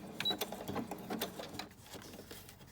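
Sewing machine stitching through the paper pages of a junk journal, a quick rattling run of needle strokes in uneven bursts, fairly close and moderately loud, with no voices.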